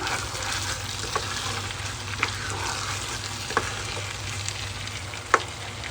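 Chilli fish with chopped ginger is stirred in a frying pan, a steady soft sizzle with a few sharp clicks of the utensil against the pan, close and without talk.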